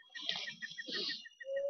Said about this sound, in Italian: Sparare al piccione.